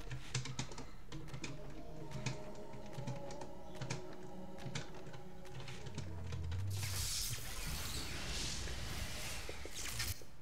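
Computer keyboard typing during a speedrun of Legacy of Kain: Defiance, with dense, rapid clicking keystrokes and a noisier, washy stretch toward the end. The typing stays close and moderately loud, with no voices.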